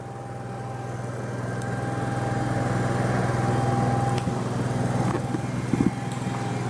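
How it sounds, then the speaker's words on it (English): An Onan generator runs on a 2007 Damon Daybreak 3276 Class A motorhome, producing a steady, moderately loud engine drone with a constant hum that holds without change throughout. "I got the Onan generator running"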